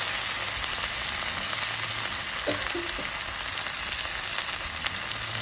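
Chopped tomato goes into a pan of Bengali-style Katla fish curry, which sizzles with a steady, close frying hiss throughout and gives a brief utensil clink midway.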